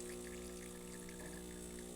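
A Breville Oracle Touch espresso machine pulling a test shot of dark roast coffee after a full tune-up: a steady pump hum with tonal whine and a soft trickle of liquid, continuous and close.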